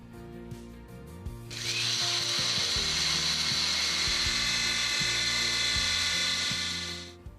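A mixer grinder blends spiced buttermilk masala with mint powder, starting after a brief pause and running as a loud, steady high-pitched whir for about five seconds before cutting out.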